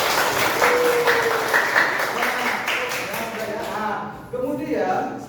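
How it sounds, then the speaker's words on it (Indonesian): A classroom of students breaks into applause, a rustling patter of many hands mixed with overlapping voices and calls, dwindling toward the end. "Tepuk tangan dulu dong."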